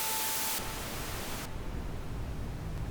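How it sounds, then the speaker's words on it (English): A test generator plugin produces a steady wash of white noise, loud and constant, that drops in level twice over a few seconds. "I go for white noise."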